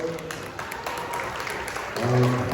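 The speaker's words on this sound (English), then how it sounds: "Give the women a round of applause." Scattered applause rises from people gathered at a community board meeting, moderately loud and fairly close, with a voice briefly breaking in near the end as the clapping continues.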